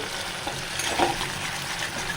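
Loitta fish frying in a pan gives a steady, close hissing sizzle with a brief stirring scrape near the middle, and no voices over it.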